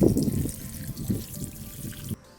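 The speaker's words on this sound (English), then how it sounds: "So I'm going to give these a good soaking so they're nice and moist" Water is poured over herb seed pots for container planting on a windowsill, a soft, close splashing trickle that keeps on and then stops abruptly.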